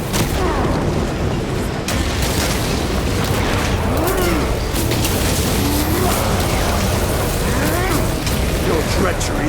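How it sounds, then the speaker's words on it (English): A frag grenade explodes in the Space Marine 2 video game, adding a booming, rumbling blast to dense, loud battle noise that keeps going under the action and shouted game dialogue. "Throwing frag grenade!"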